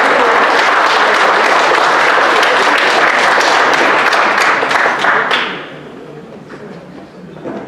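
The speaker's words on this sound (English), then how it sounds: "Give him another big round of applause." A conference audience breaks into sustained, dense applause for several seconds, loud and close, before it thins out and fades to a few scattered claps.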